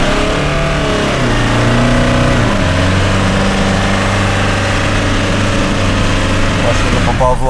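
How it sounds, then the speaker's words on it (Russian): A Toyota Fortuner runs in low range with the rear locker engaged, and its drivetrain and engine give a loud, steady hum and drone that shifts pitch as the vehicle crawls forward. Someone talks over it. "Сразу резче стала работать трансмиссия."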